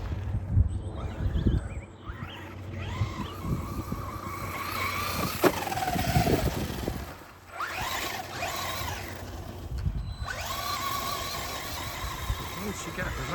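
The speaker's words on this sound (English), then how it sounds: "Once you get it going, you hear the slipper clutch slipping a bit, or the wheel spinning a bit, and then it just goes" A radio-controlled rally car drives over grass, its motor whining as the wheels spin and the slipper clutch slips before it pulls away. The sound is continuous and fairly close, and voices come and go underneath.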